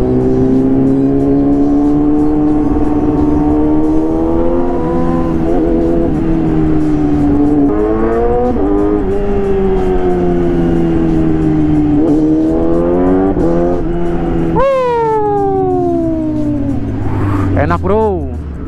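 A Yamaha R6 sport bike with a quickshifter and autoblipper revs hard, its engine note climbing and dropping through quick gear changes, loud and close, with someone talking over parts of it.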